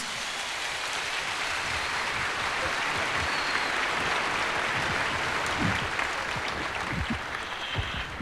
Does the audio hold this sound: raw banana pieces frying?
no